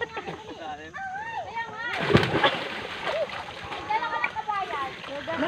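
A splash as someone jumps into the water at a riverside fishing spot, a sharp burst midway amid children's chatter and shouting voices, with water sloshing faintly around.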